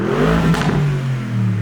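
V8 engine of a 2025 Bentley Bentayga Speed with Akrapovic exhaust revs up in a brief, loud surge, then settles into a falling drone, all close and with no talk.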